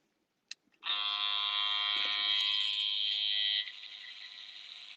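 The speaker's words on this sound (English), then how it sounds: "I will use my trimmer and the comb to create" Electric hair trimmer buzzing steadily close to the mic as it cuts hair with a comb, a bright, even drone for a few seconds that then softens as the blade moves through the hair.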